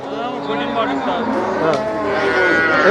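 Native cattle moo loudly and close by at the Melapalayam cattle market, a long drawn-out low bellow, with people talking in the background.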